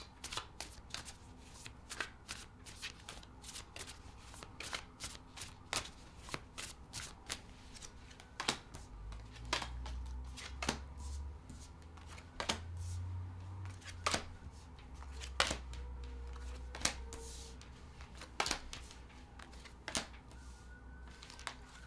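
Tarot cards are shuffled steadily at close range, a long run of crisp riffling snaps and slaps repeating in quick bursts, with a low rumble underneath at times.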